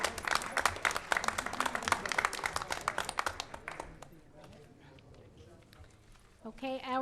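School board meeting audience applauding staff, a few seconds of lively clapping that dies away, followed by quiet room tone and a voice starting to speak at the end.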